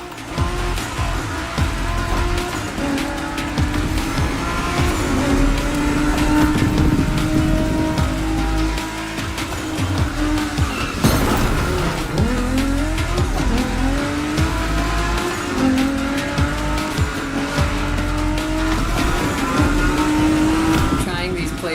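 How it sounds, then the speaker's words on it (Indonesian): Japanese cars race and drift in The Crew Motorfest video game, engines roaring loudly and continuously while tires squeal through repeated slides, with shifting engine pitch and gear changes under a dense, steady soundscape. "Right in the center of all the action, racing these Japanese drift masters, just awesome."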